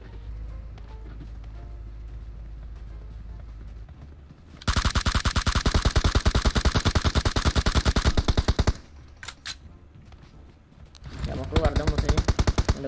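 Rapid automatic gunfire crackles in PUBG: one loud, sustained burst of several seconds, then a couple of isolated shots, then another close burst, with talk during the quieter stretches.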